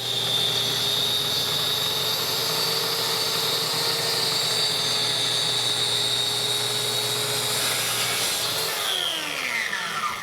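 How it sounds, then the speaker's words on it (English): A track saw cuts plywood for a cornhole board with a loud, steady, high whining roar held close for about nine seconds, then the motor spins down near the end; no talking. "this track saw is very accurate"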